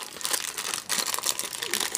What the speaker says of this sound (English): Cut open the plastic baggie, and there we go.